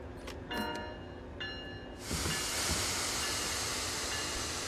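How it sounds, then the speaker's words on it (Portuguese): A locomotive in the Train Sim World rail simulator game starts moving, with a few short electronic tones, then a sudden loud steady hiss and rumble that carries on to the end. "vou colocar esse trem em movimento aqui pra vocês verem"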